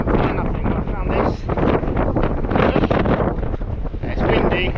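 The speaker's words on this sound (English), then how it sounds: "It's windy" Strong wind buffeting the microphone, a constant loud rushing roar with gusty swells throughout.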